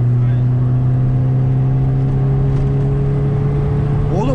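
A Fiat Uno engine revving under load while climbing a gentle hill, a loud steady drone with rising harmonic tones that hold throughout, heard from inside the car.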